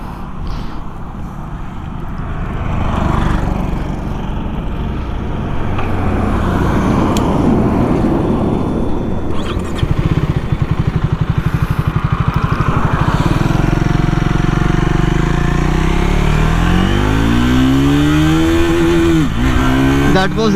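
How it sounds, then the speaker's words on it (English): A Triumph Thruxton 400 motorcycle engine running loud and steady while riding on the road, its revs climbing and shifting toward the end, with someone talking over it at times. "This is a gorgeous motorcycle. All right, let's ride."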